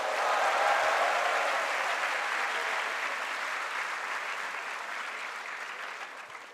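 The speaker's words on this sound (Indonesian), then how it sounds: "Berikan tepuk tangan" An audience at a school lecture for students of SMA Taruna Nusantara breaks into sustained applause, a thick, even wash of many hands clapping that slowly tapers off over several seconds.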